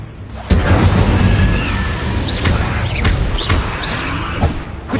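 An Incendio fire spell cast in Hogwarts Legacy, a sudden loud whooshing burst that roars on with crackling flame, joined by further spell impacts and magical zips.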